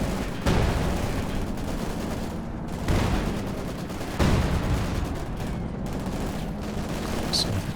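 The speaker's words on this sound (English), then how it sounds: "the follow-up from the machine guns finishes it off" Machine gun fire in Company of Heroes 2 during a 2v2 match: dense rattling bursts and scattered heavier booms, loud and continuous with brief lulls between surges.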